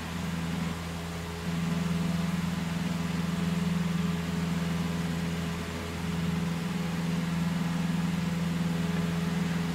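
A Cessna C172 piston engine holds about 2400 RPM in a flight simulator game, a steady, even drone with a low hum that dips slightly twice and carries on alone without talk.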